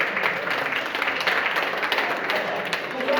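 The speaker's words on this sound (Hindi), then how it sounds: "एक बार जोरदार ताली" Audience applause at a gathering, a fairly even spread of clapping from a crowd that holds steady at moderate loudness.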